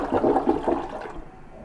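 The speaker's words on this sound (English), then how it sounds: "We'll give it another flush." A newly installed toilet flushes close by: a loud rushing gush of water that fades into a quieter refill trickle, with no voices.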